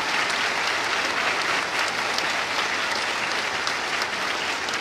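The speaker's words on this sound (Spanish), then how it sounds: "le demos un gran y fuerte aplauso al señor gobernador" Loud, sustained applause from an audience at a ceremony handing over a rebuilt secondary school, steady dense clapping filling the whole stretch without pause.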